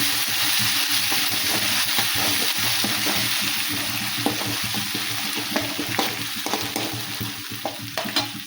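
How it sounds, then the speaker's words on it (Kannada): Crushed green chillies and curry leaves sizzle steadily in hot oil for North Karnataka style junuka vada, a continuous loud fry with scraping stir strokes throughout and no voices. "ಈಗ ಹಸಿಮೆಣಸಿನ್ಕಾಯಿ ಕುಟ್ಕೊಂಡಿನಿ ರೀ. ಇದನ್ನ ಎಣ್ಣೆಗೆ ಚೆನ್ನಾಗಿ ಮಿಕ್ಸ್ ಮಾಡ್ಕೊತಾರೆ."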